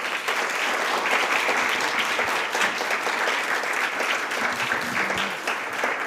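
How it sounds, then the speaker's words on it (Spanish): A hall audience claps warmly for three speakers at a conference on creative and cultural industries, a thick, even round of applause that holds steady, with faint voices murmuring underneath toward the end. "y un aplauso para los tres"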